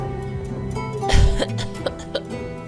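A game character retches and coughs something up in one harsh, throaty burst, followed by a couple of short strained gasps, all over a soft sustained musical backdrop.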